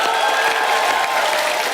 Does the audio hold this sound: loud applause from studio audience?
yes